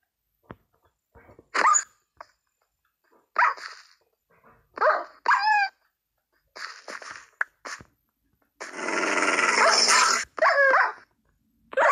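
Dogs in modded Minecraft bark, yip and whimper in short separate bursts, with a longer harsh growl near the end, loud and close against silence.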